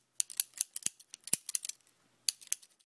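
Scissors snip hair for a haircut: a quick run of close, sharp metallic clicks and snips in uneven bursts, a short pause, then a few more cuts, with no talking.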